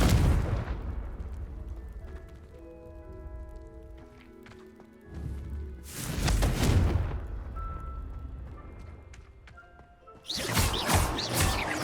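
Confringo blasting spells explode in Hogwarts Legacy, three loud booming bursts arriving at irregular intervals, the last continuing to the end, with smaller crackles and thuds between them and no talking.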